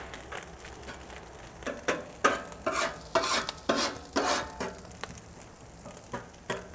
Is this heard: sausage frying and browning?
yes